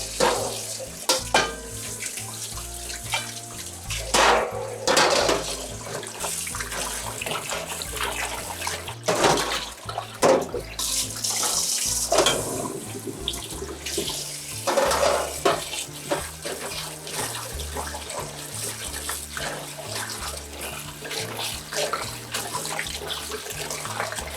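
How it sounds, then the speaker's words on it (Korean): Garlic scapes being rinsed in cold water in a kitchen sink, with running water, splashing and sloshing as the stalks are swished by hand, in irregular bursts over a steady trickle, no talking. "자, 이렇게 해서 찬물에 한 서너 번 헹궈줍니다."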